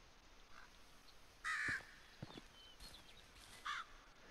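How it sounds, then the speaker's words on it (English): A crow caws a few times in the game Medieval Dynasty, two loud harsh calls and fainter ones between, against a quiet outdoor background. "There's another crow."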